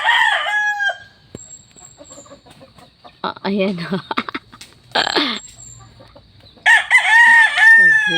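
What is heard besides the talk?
chickens crowing and clucking while being fed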